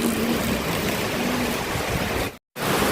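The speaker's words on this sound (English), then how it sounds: "It's really raining down." Heavy rain pouring down while rainwater is being harvested, a loud, dense, steady outdoor rush that briefly cuts to silence near the end.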